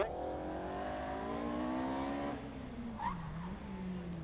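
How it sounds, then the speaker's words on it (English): Race car at a hill climb, No. 114 MP82 with 2-litre engine, tyres locking up under braking into a corner: loud engine note with descending harmonics as it slows, then a brief squeal near the end. "locking up under braking now into triangle"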